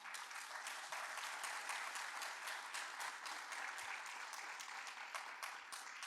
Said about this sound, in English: So we can have a round of applause for our panel.